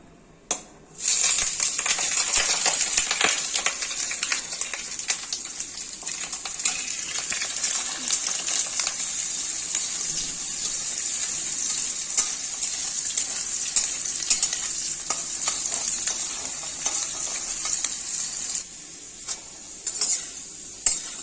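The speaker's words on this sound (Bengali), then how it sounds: "দিয়ে দিচ্ছি এখন কেটে ধুয়ে রাখা আলু।" Cut, washed potatoes sizzle steadily in a hot pan of oil while a spatula stirs and scrapes, the frying hiss loud and continuous with occasional utensil clinks, no talk.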